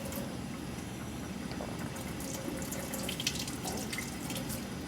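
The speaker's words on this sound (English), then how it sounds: "we're gonna cut the water on, we're gonna make sure we're watching the flow of the water" Warm water runs steadily from a sink tap for handwashing, a soft, even splashing stream with faint drips and gurgles, quiet and close with no talking.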